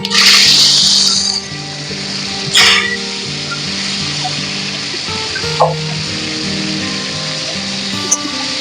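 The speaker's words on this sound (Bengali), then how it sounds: "কড়াইয়ে তেল গরম হয়ে গেছে, দিয়ে দেবো শুকনো লঙ্কা, তেজপাতা, কালো সরষে। এটা একটু ভেজে নিতে হবে। এবার দিয়ে দেবো কাঁচা আম" Raw mango pieces go into hot oil in a wok with dry red chillies, bay leaf and black mustard seeds, setting off a loud burst of sizzling that quickly settles into a softer fry over background music.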